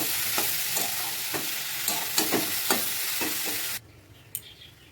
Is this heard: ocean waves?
no